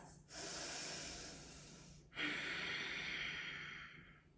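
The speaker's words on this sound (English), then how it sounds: "We're gonna stay here for 3 more breaths." Slow, deep breathing during a yoga pose, two long drawn breaths heard up close, each a steady airy rush lasting about two seconds, with no talking.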